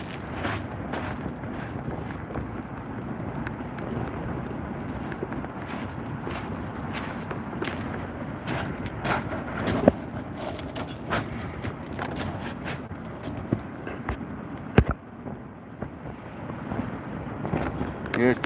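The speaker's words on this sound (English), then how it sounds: "Yeah, it's pretty windy." Strong wind buffets the microphone during shore fishing for tope sharks on a coast, a steady heavy roar of gusts with occasional knocks and bumps throughout.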